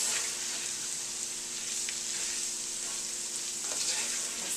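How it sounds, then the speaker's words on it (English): Garlic and corn cooking over medium heat in a pan, a steady bright sizzle with a few soft stirring taps, no talking. "We're going to add the garlic now and the corn. We're going to cook these over medium heat for about 3 or 4 minutes."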